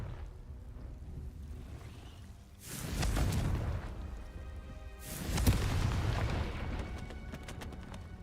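Two heavy booms from the Confringo blasting spell in Hogwarts Legacy, each a loud burst with a rumbling, crackling tail, breaking a quiet ambient bed a few seconds apart.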